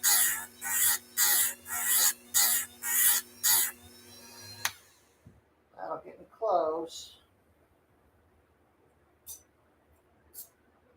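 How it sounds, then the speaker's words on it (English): A Dremel rotary tool deburring FK8 engine parts runs in about seven short, loud grinding bursts with a steady motor whine, then stops, leaving quieter handling noises and brief voice sounds. "the way I'm doing it with the Dremel, it doesn't really leave big burrs"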